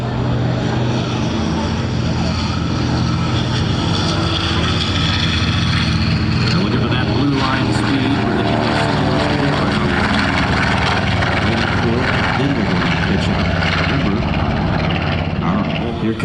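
A PBJ bomber warbird thunders with its piston engines at full power on takeoff at a Marine Corps air station show, a loud steady propeller roar that holds through the whole stretch.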